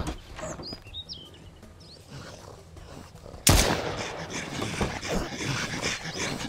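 A single sharp gunshot in the survival video game Mist Survival cracks out midway after a quieter stretch with bird calls, followed by louder ongoing rumble and movement.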